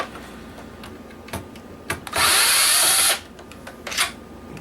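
A power drill briefly whirs at close range, driving screws out of an old computer motherboard salvaged for scrap, a single sustained burst of about a second set between faint clicks and handling knocks.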